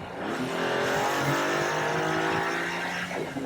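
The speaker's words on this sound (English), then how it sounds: "the engine? It's like having little mechanical devils scream at you in fluent Italian" A loud, high-revving Maserati MC20 engine roars steadily, its pitch climbing and shifting as it accelerates, with no voices.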